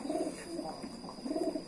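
Pigeon cooing in low, repeated throaty bursts while a high-flying pigeon is held and its wing feathers are spread, close and fairly steady, with no talk.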